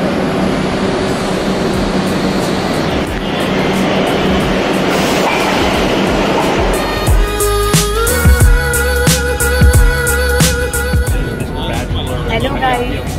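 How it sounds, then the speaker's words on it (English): A loud New York City subway train, on a system built in 1904, rumbles and clatters through a station, with rhythmic clicking of wheels on rails building as it arrives. "This is a very old subway system, built in 1904."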